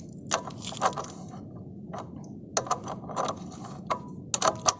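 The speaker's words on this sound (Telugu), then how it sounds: "మనము ఈ యాక్సిల్ నట్ని టైట్ చేసుకోవాలి. కంప్లీట్గా టైట్ చేయండి." Axle nut being tightened on a KTM Duke 125 motorcycle during chain adjustment, with a run of ratcheting and metallic clicking bursts spread across the moment, close and moderately loud with no talk.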